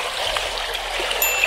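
Warm sea water at a beach in Alanya, Turkey, sloshing and trickling steadily close by, with a few brighter splashes toward the end.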